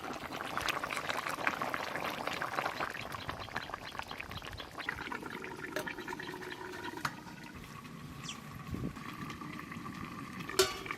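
Fish curry with tomato in a pan on the stove, a soft bubbling sizzle with stirring noises and a few clinks, fairly quiet and steady.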